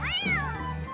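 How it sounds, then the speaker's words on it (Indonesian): A single cat meow in the game Ejen Ali, a clear, close call that rises and then slides down in pitch, lasting under a second. "Meow."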